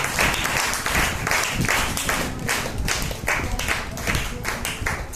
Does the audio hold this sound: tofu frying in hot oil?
no